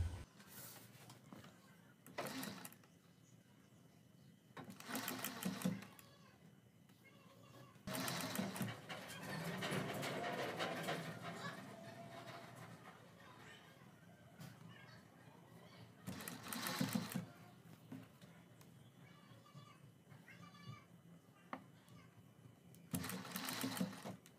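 A sewing machine stitching a neck patti strip onto a kurti runs in several separate bursts of rapid whirring, with quieter handling sounds in the pauses between runs.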